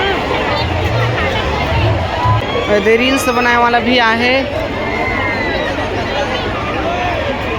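Dense crowd bustle at the Rajim Kumbh Mela fair and Meena Bazaar, a steady babble of many voices and movement around, with someone talking close over the hubbub.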